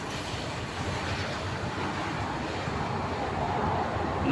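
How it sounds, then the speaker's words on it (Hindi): Sentosa Island monorail in Singapore passing by, heard as a steady broadband rushing rumble that holds for several seconds and swells slightly toward the end, with wind noise and no talk. "monorail once again,"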